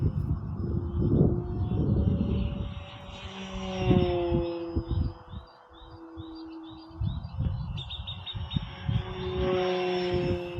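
A small Arrows RC Trekker 1200mm model propeller airplane drones and whines overhead, its pitch rising and falling as it passes, with birds chirping in the background and wind buffeting.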